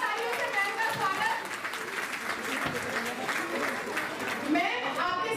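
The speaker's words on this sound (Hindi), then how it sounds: "जोरदार तालियों से मैम का स्वागत।" Enthusiastic applause welcoming a guest at a railway workers' union women's wing International Women's Day event, a dense continuous wash of clapping from a crowd, loud and sustained throughout.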